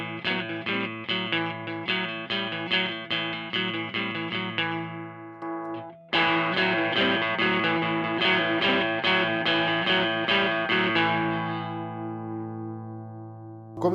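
Electric guitar played through a Tube Screamer overdrive pedal with the tone knob set near eleven o'clock, giving a driven, slightly distorted tone; two sustained strummed phrases with rhythmic picking, each ringing out and decaying, with no talk.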